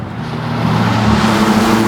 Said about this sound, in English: that was 60 easy in no time and I had nothing but wheel spin